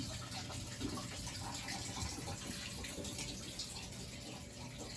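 Water runs steadily through newly installed washer connections inside an off-grid shed, a continuous faint rushing hiss with no pauses.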